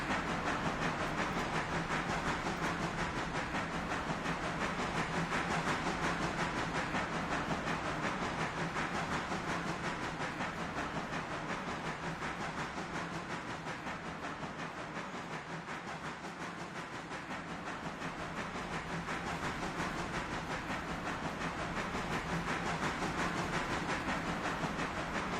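A train in the Railroader video game rumbles along in a steady, continuous drone with a low hum and a faint rhythmic rattle, holding an even level throughout with no talking.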